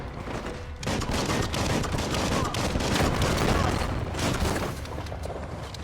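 Sustained boomstick gunfire in the video game Biomutant, a dense, loud barrage of rapid blasts that starts abruptly and rolls on without pause.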